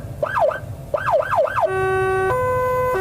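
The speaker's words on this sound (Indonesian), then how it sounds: "Untuk suara ambulans sendiri seperti ini." An ambulance siren starts with rapid wailing sweeps, then switches to a steady two-tone alternating call, loud and close, with an engine rumble beneath.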